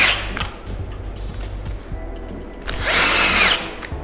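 A power drill drives screws to fix a clamp onto a CNC router, with a short whirring burst near the end after quieter handling noises and faint clatter.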